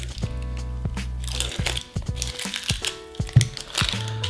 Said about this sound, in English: So you peel off that first layer.